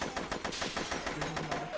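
Rapid automatic gunfire rattles through a firefight in the video game Subrosa, a dense run of sharp repeated shots at a steady pace, loud and close, with no voices over it.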